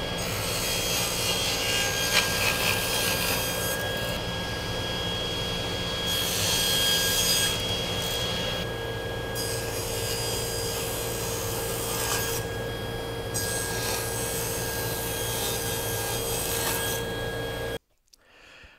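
A hand saw cuts wood for a traditional carpenter's toolbox, with close, steady back-and-forth rasping strokes for about seventeen seconds before stopping abruptly.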